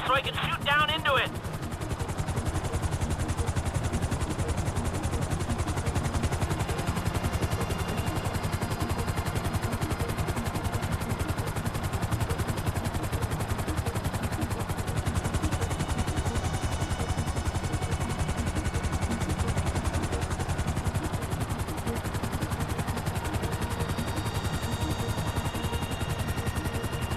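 GTA V gameplay: a helicopter's steady rotor roar fills the scene while bursts of gunfire and machine-gun fire crackle over it, with occasional voices underneath.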